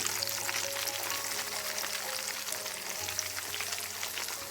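Chicken wings for naga wings deep-frying in hot oil, a steady dense bubbling sizzle that holds evenly from start to end, close and continuous with no voices.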